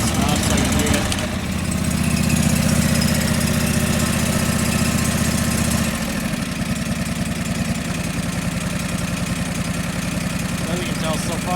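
A John Deere 445 lawn tractor engine runs steadily close by, a loud continuous mechanical drone with a low hum that drops slightly in level partway through and carries on evenly to the end.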